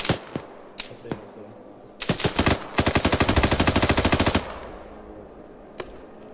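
Gunfire in the Arma 3 video game: scattered single shots, then a rapid machine-gun burst of about twenty sharp cracks, loud and close, trailing off into a few distant shots.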